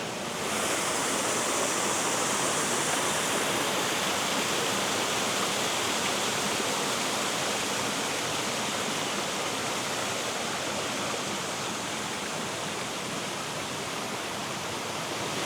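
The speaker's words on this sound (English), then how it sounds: "Hopefully you can hear me okay over the rushing water." Rushing water at a stream crossing near a waterfall in Arkansas roars steadily and loudly, a dense continuous wash of noise with no voices.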